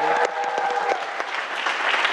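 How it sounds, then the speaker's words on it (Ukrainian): A TV show audience applauds its guests with steady, dense clapping throughout, loud and close, with no voices on top. "під ваші оплески подякуємо нашим гостям"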